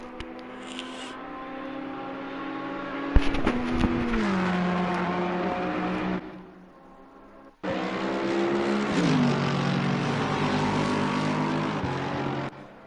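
GT3 race cars, a Mercedes and a Ferrari, roar around Mount Panorama in a racing game, engines revving up and shifting with a loud sustained whine, a brief drop in the middle, then another car screaming past.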